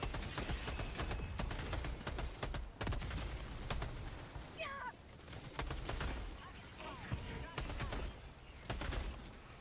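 Rapid bursts of gunfire from the video game Helldivers 2, sharp repeated shots and volleys filling the mix almost continuously, with occasional game sounds and brief voices in the background.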